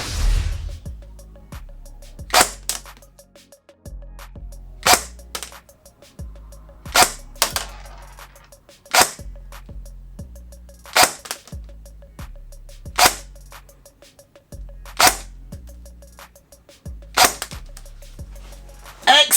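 Secutor Rapax XXI M3 airsoft DMR firing about ten sharp, close single shots at a steady pace of roughly one every two seconds, each followed by a brief mechanical whir and click of the reset, with no talking.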